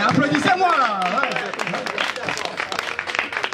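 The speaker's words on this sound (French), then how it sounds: "Non mais applaudissez-moi là." An audience at a live stand-up comedy show bursts into applause, a dense crackle of clapping that follows a voice talking and carries on steadily to the end.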